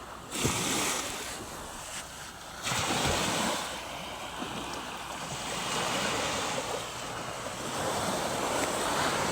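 Ocean surf rolls steadily onto a wide open beach, a continuous broad wash of breaking waves with gusty wind noise across the microphone and no talking.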